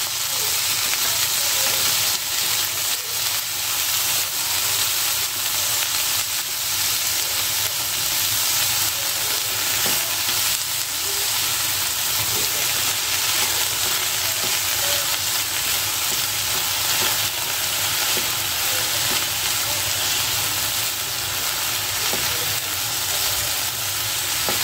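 Chopped ivy gourd tipped into a hot pan with lentils for a temple-style palya sizzles in a loud, steady, continuous fry with a dense hiss and occasional stirring scrapes, up close and unbroken throughout.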